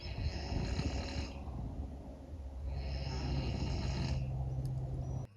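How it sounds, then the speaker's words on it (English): Pigs snoring in a mobile electric pen on a small Alaska farm, a steady low rasping drone with breathy rises and falls, close and continuous throughout. "And here they are, happily snoring away."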